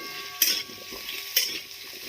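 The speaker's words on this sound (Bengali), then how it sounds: "এবার আমি এর মধ্যে দিয়ে দেব এই আমার কেটে রাখা আলুগুলো যদি একটু নাড়াচাড়া করে" Cut potatoes tossed into a frying pan and stirred, a faint sizzle broken by two sharp scraping clinks of a utensil against the pan about a second apart.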